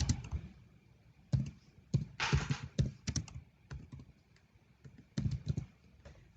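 Typing on a computer keyboard while building a spreadsheet-style table, with quick irregular bursts of clicky keystrokes, several short flurries and a longer rattling run, close and fairly quiet, with no voices.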